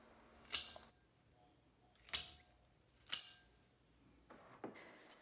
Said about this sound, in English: Don't forget to cut the tip underwater.